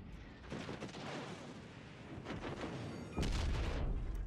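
Armor-piercing naval shells from a volley of gunfire slam into a warship's broadside in the World of Warships Legends video game, heard as rumbling salvos with a loud heavy impact near the end.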